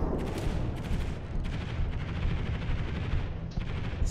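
Naval gunfire in the naval combat game World of Warships: a dense, continuous barrage of booming shots and rumbling blasts that fills the whole clip at steady loudness, with no talking.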